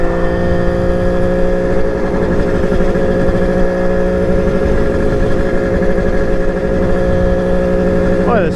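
A Kawasaki KH500 H1 motorcycle engine runs steadily close by on a ride, a constant buzzing drone with a strong low hum and no clear revs.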